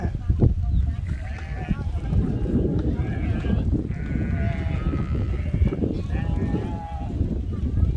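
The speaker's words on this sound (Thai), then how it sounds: "แกะมา เป็นฝูงเลย" A flock of sheep bleats repeatedly near the Huai Tueng Thao reservoir, several overlapping calls that rise and fall over steady outdoor noise while people talk nearby.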